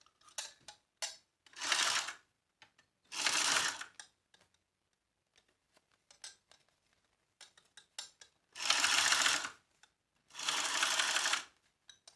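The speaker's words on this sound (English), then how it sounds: "let's get our top stitch on" A sewing machine top stitches a fanny pack in four loud, close bursts of rapid mechanical whirring, separated by quiet gaps with small clicks and handling sounds.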